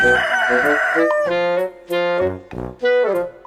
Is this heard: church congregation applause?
no